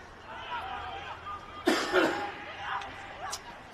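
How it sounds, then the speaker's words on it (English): A sports commentator's cough during an NTFA Premier League senior men's Australian rules football match broadcast, a short burst of two or three harsh coughs heard close to the microphone over faint crowd murmur. "Excuse me, had a little cough there"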